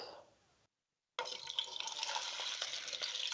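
Steady, close sizzling and crackling of salmon skin frying in a hot pan, starting after a brief silent gap and continuing loudly to the end.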